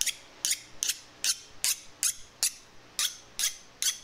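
A freshly quenched knife blade is clamped in a straightening jig, giving ten evenly spaced sharp squeaky scraping strokes, close up and regular, with quiet pauses between.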